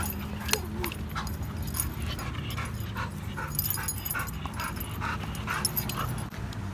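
Dogs whimper and yip at a dog park beside a lake, with short high cries scattered over steady low rumbling background noise; the sounds are faint and fairly distant.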